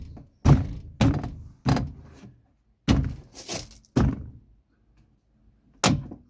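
Sharp repeated thunks of door card clips being banged into the door of a 1978 VW T2 late bay Westfalia campervan, about seven loud close knocks in an irregular rhythm with brief pauses between, no talking.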